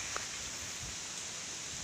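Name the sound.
heavy rain and wind outdoors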